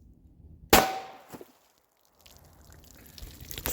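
A 9mm bullet strikes a steel armor plate with water behind it, giving one sharp, loud impact followed by a short ringing ping that fades into near silence.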